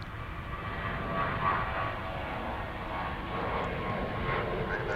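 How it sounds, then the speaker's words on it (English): An Emirates Boeing 777 arriving from Dubai approaches DFW International Airport, a faint, distant jet rumble with a soft whine that swells and fades gently. "It'll be a 777 coming in from Dubai."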